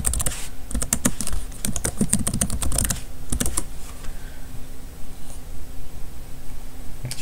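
Quick bursts of typing on a computer keyboard to enter login details, close and crisp for about three seconds, then sparse keystrokes fading into quiet room tone.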